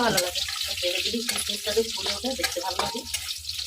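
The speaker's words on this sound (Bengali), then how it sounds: "কাজু কিশমিশগুলোকে দেখতেই পাচ্ছেন আমি খুবই হালকা করে ভেজে নিয়েছি" Cashews and raisins lightly frying in a pan, producing a close crackling sizzle with stirring clatter, and a background tonal hum pulsing underneath.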